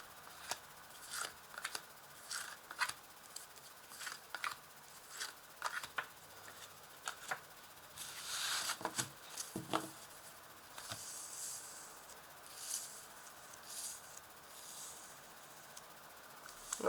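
Tarot cards are shuffled and laid out one after another, giving soft close slides, flicks and light taps with a brief flurry of riffling near the middle, quiet overall.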